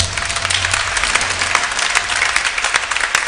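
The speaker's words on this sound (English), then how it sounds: "give Jesus a clap" Children in a church congregation at a Mass clap together, a loud, fast, dense patter of many small hands continuing steadily for several seconds with no speech.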